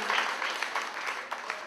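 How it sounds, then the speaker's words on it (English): A church congregation at a pastor's family welcome service claps in greeting, a brief spread of moderately soft, steady clapping from a crowd with no voices over it. "Let's give him a mighty clap of and welcome"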